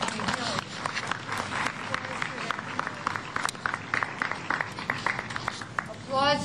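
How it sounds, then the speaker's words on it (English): An audience claps at a Phoenix Lights anniversary gathering, a scattering of sharp claps heard through ongoing talk and background voices. "applause for them for doing this"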